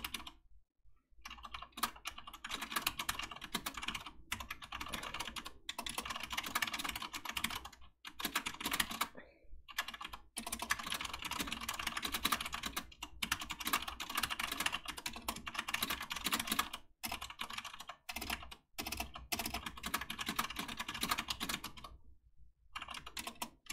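Steady typing on a computer keyboard, rapid clicking keystrokes running on and on with brief pauses between bursts, close and fairly quiet with no talking.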